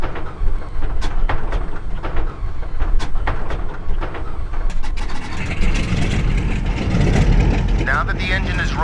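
A Boeing Stratocruiser piston engine in a flight simulator game cranks and catches, its rough mechanical rumble swelling into a loud, steady idle, while a person talks over it throughout.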